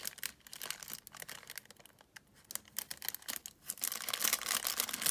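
Close-up crinkling and rustling of plastic wrap, irregular crackles and tears growing louder toward the end, with no talking.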